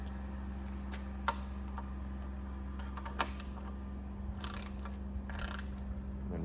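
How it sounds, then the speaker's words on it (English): A torque wrench tightens bolts on a Kitfox aircraft, giving faint ratcheting clicks and a couple of sharper ticks over a steady low hum, with brief scraping bursts near the end. "So now we're gonna torque these bolts down."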